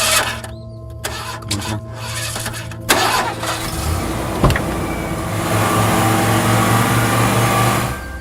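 A car engine cranks with several stuttering turns, then catches with a sharp jolt and settles into a loud, steady running hum that builds toward the end; no talk.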